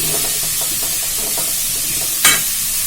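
Cauliflower frying in a pan at home, a loud, steady sizzle and hiss throughout with faint stirring scrapes and one brief sharper crackle near the end.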